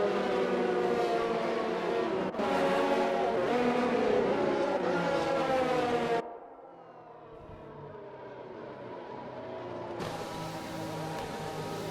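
Racing cars in a sim racing game at the Circuit de Barcelona sweep past in a continuous train, engines droning and shifting loudly for several seconds before cutting abruptly to a quieter, more distant engine whine that builds again.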